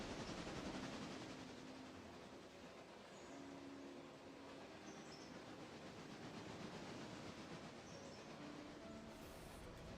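An express train passing in the railroad video game Railroader, a continuous loud rumble and rolling rail noise with faint squeals and clanks, steady throughout.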